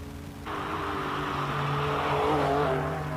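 A classic 745 race car roars at the Simola hill climb, its engine suddenly rising loud and sustained with a steady, rising drone as it accelerates nearby, with no talk.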